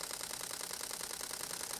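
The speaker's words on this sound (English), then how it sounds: "I'm going to take the camera and I'm just going to press the shutter" A camera flash cycling in a steady rapid whine-and-click pattern, with the shutter firing repeatedly and the flash recharging, heard close up and alone with no talk.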